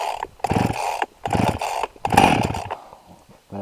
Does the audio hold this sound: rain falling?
no